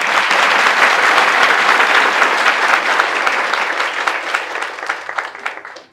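Students at a coaching centre applaud their teacher with loud, sustained clapping that stays dense for several seconds, then thins and fades out at the end.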